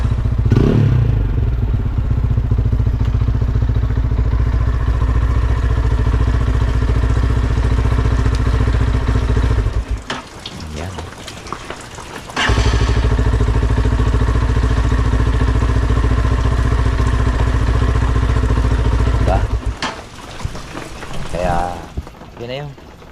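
A motorcycle engine idles loudly and close by on a farm beside an okra planting, a steady rumbling clatter that drops away briefly twice before resuming; other mechanical rattles mix in around the gaps.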